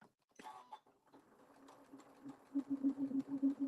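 A sewing machine stitching a fabric gift card bag, its needle running in a quick steady rhythm that grows louder toward the end after a few quiet handling noises, heard close and alone.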